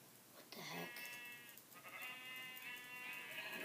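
A sheep in a survival video game bleats in several drawn-out, wavering calls, loud and close, with no talking over them.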